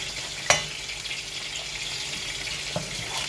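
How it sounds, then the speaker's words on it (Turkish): Minced meat frying in a pot gives a steady soft sizzle throughout, with a sharp clack of a utensil near the start and a fainter knock later. No voices. "Ben alttan şu et kokusunu acık alsın diyerekten kıymamı alttan kavuruyorum."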